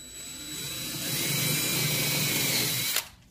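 A power drill whirs steadily and loudly for about three seconds, boring a 3/8 inch deep hole in wood, then stops abruptly with a brief clunk.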